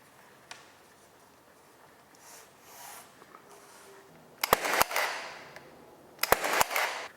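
A nail gun fastening crown molding for a carpentry pediment, firing two quick pairs of sharp, loud snaps amid soft handling and rustling of the wood strip.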